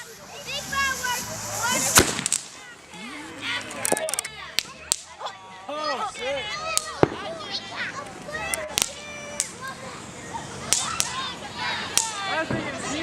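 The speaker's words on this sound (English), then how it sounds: "Big fireworks." Fourth of July fireworks popping and crackling, a series of sharp irregular bangs, some near and loud, while children and adults shout and talk excitedly throughout.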